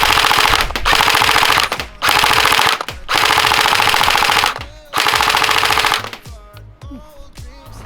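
A CP AK105 gel blaster fires on full auto in four long, loud rattling bursts separated by brief gaps, close to the mic, followed by quieter mechanical noise at the end.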